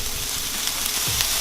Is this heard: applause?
no